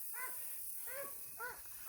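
Young farm puppies give several short, high yips or whimpers in three separate bursts, fairly faint against a steady background hiss, with no talking.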